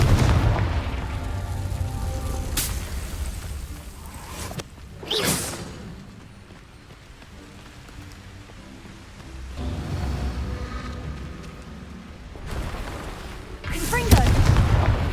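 Confringo explosive spell blasts in the Hogwarts Legacy video game, loud booming bursts with whooshing tails, one at the start, another near five seconds and a final one near the end, separated by rumbling battle ambience.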